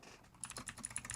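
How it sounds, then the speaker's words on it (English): Typing on a computer keyboard, with quick, uneven, close-up clicking taps that start after a short quiet moment and continue in a busy patter, with no talk. "I'm typing in all type of weird stuff."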